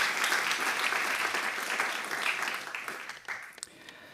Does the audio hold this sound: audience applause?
yes